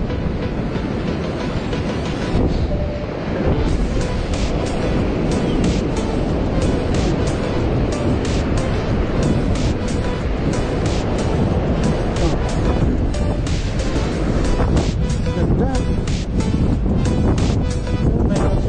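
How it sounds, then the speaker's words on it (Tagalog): Waves rolling back onto the shore near a cave along the coast, a loud, continuous broadband wash with surging swells that never fully drop away, heard close up with faint voices underneath. "Ayun naman, bumalik na naman yun ang alon"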